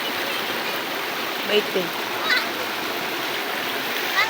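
A river stream flows steadily with a broad, continuous rush near a waterfall, with a few small splashes and a brief voice over it.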